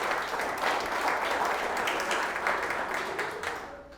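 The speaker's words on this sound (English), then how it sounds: "ask you guys to give yourselves a round of applause there" Applause from guests at an investor dinner, a continuous wash of many hands clapping that holds steady and then starts to thin out near the end.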